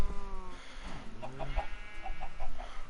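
Chickens on a farm in the Minecraft video game give a few short clucks in a quiet, sparse game soundscape.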